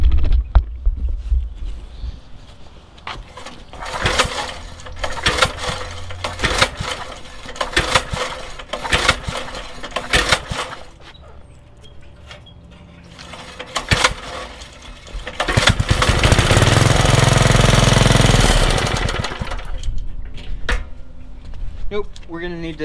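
An old 1978 Troy-Bilt tiller, long left sitting and with a carburetor needing work, sputters and coughs in uneven bursts, then runs in a louder steady roar for a few seconds before faltering. Someone speaks between the bursts.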